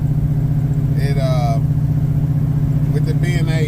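A 1978 Chevrolet Malibu with a 383 stroker engine and a 350 turbo transmission drives and shifts, its steady loud engine drone running throughout while someone talks over it.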